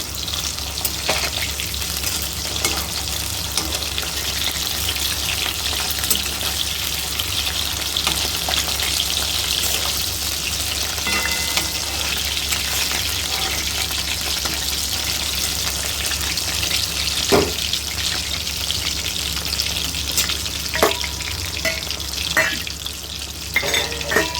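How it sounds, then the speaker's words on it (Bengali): Rohu fish frying in a pan for a light fish curry, a steady, close crackling sizzle that runs continuously with occasional sharper pops and no talking. "এদিকে আমার মাছগুলো প্রায় ভাজা হয়ে গেল"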